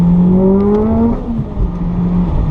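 A tuned 668 whp Mitsubishi Evo X race car on a quick full-throttle pull, engine note climbing sharply in pitch, then easing off into a lower drone, loud and close from inside the car.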